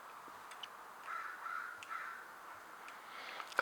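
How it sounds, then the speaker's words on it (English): Crows caw faintly in the distance, a few harsh calls spread over a couple of seconds against a quiet outdoor backdrop. "those crows outside make some noise"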